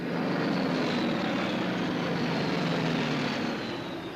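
A TBF Avenger torpedo bomber's propeller engine drones steadily and loudly in flight, a continuous heavy roar with no voices.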